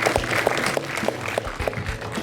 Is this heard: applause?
yes